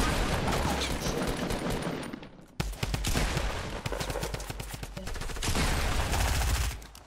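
Rapid bursts of automatic gunfire in a shooter video game, loud and dense, with a short pause partway through before the shooting picks up again. There is no talk over it.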